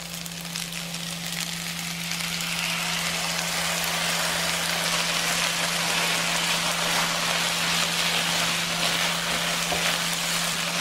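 Sauce hitting noodles in a hot pan while stir-frying Tokyo-style yakisoba at home, a loud, continuous crackling sizzle that stays steady and close, with a low hum underneath and no talking.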